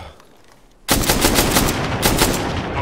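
Bursts of rapid automatic gunfire erupt in a military shooter video game near a bunker, following a brief quiet moment, loud and close, with repeated rattling volleys and sharp peaks.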